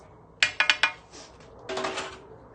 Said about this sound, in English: You just add it and then stir it in